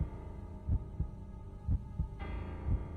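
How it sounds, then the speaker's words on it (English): Heartbeat sound effect in the Racing Lagoon video game: deep, muffled double thuds repeating at a steady pulse about once per second over a low hum, no talk. "My ears were deadened by the thudding of my heartbeat."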